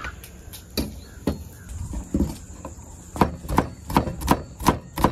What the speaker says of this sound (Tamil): இஷாராவும் கீதாக்காவும் உள்ளியும் வெங்காயம் பட்டி கொண்டுருக்காங்க